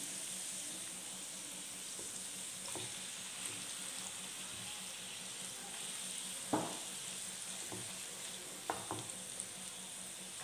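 Tomato added to carrots and paneer frying in a pan gives a steady, faint, close sizzle, broken by a few soft clinks and knocks from the utensils.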